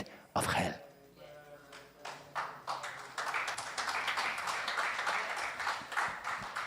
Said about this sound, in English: Not everybody's clapping. Everybody should be clapping.